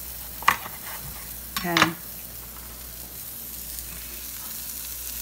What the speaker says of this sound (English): I'm going to lower the flame a little bit because I don't want the mushrooms to burn